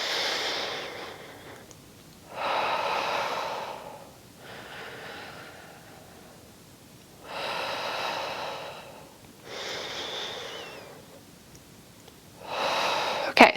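Forceful breaths during a Pilates reformer full-body workout, in through the nose and out through the mouth, come as five or six loud, close, breathy bursts a couple of seconds long, separated by quieter pauses.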